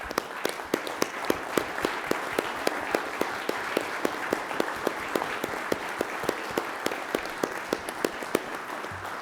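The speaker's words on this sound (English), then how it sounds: "help me give those ladies a round of applause" Dinner guests at a military lecture-series event applaud the wives, a steady patter of clapping with a few sharp, close hand claps standing out at a regular beat.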